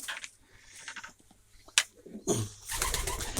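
Pigeons coo in a loft, soft low calls mixed with a sharp wing flap and rustling, fairly close, with background noise rising toward the end.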